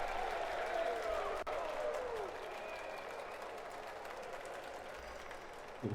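A virtual crowd in the VR boxing game Thrill of the Fight 2 roars and cheers steadily throughout, a dense sustained wash of noise with a faint whistle-like tone drifting through it.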